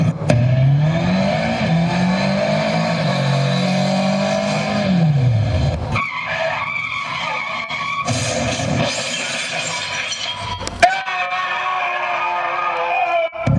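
A motorbike speeds along a road, its engine revving and rising then falling in pitch as it races past close by, loud and alone.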